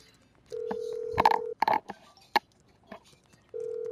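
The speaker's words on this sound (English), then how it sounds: "Wait, why did I call Jimmy? Will he answer?" Phone call being placed in GTA 5: steady dial-tone beeps start and stop, with brief clicks and tones in the gap between them, close and clean, with no voices.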